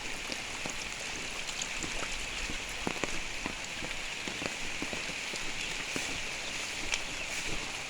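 Steady heavy rain pours down on a village, dense and continuous, with scattered louder drops pattering on a nearby surface throughout.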